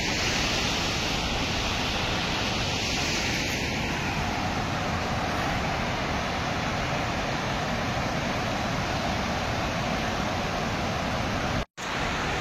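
Water overflowing the Itiadoh dam in Gondia, Maharashtra, pours down in a constant, loud, broadband roar, like rain falling from the sky, unbroken apart from a brief dropout near the end, with no voices.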